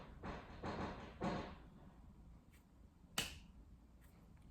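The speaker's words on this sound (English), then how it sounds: "Fireworks from like the 5th of July, 4th of July, whatever." Neighborhood fireworks from around the 4th of July pop in a few sharp, distant bursts, a cluster of quick cracks followed by a lone louder bang after a pause, faint and with no one speaking.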